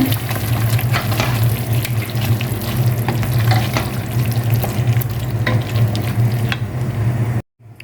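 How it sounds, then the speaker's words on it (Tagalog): Chicken stirred into a sizzling pot while cooking Arabic-style chicken bukhari rice: steady loud frying hiss with repeated scraping stir strokes throughout, cut off abruptly near the end. "ilagay na natin yung ating chicken. Ayan. Mix lang natin."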